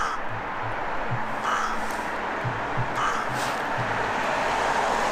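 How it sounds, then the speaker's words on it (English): A crow caws outdoors in Tuam, Ireland, giving a few harsh, scattered calls at moderate distance over a steady bed of wind and road noise. "What you want, Crow?"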